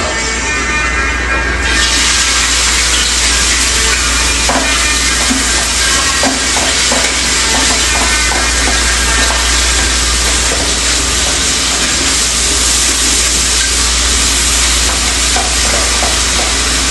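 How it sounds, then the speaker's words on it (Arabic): Onion and bell pepper frying in a pot sizzle loudly and steadily, with intermittent scraping and clinks of stirring over a constant hiss, close up and without speech. "الآن نقوم بوضع اللي هو البصل الفلفل الرومي"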